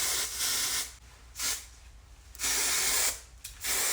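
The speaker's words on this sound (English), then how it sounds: "so I'm gonna spray the heck out of it" Hairspray hisses onto blown-out hair in three or four close bursts of varying length, with short quiet gaps between them.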